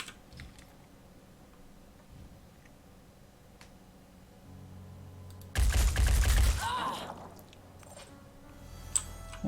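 A loud burst of gunfire from the Phoenix Point video game hits at once, a dense roughly one-second volley rising over quiet game ambience, followed by a few sharp clicks and faint interface ticks.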